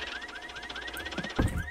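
A car alarm wails in a steady run of rising electronic chirps repeating about every quarter second, with a heavier thump and rustle near the end.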